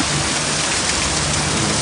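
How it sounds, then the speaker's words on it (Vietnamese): A wind and rain storm, heard as a dense, loud, steady wash of rain hitting surfaces with no break across the short stretch and no voices. "gió mưa rồi đó"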